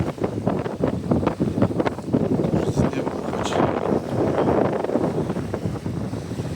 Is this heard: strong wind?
yes